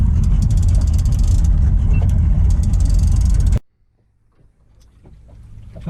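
An outboard motor on a fishing boat in Moreton Bay runs loud and close as a steady low drone, then cuts off abruptly, leaving quiet water sounds.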